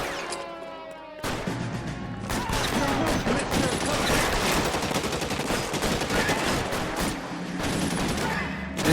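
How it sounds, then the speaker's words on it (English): Heavy close-range gunfire in L.A. Noire, opening with a quieter lead-in, then a dense, loud stretch of rapid shots and bursts that runs almost unbroken to the end. "This is too much shooting."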